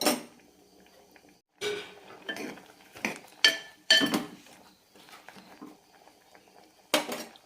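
Metal lid clanks onto a cooking pot of drumstick and mango curry on the stove, a few separate clinks and knocks of pots and utensils, close and fairly loud, with no talking.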